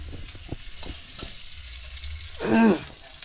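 Food fries and is stirred in a pan at home as a mother cooks dal and fish, with light scraping and clatter, then a louder burst of sizzling near the end.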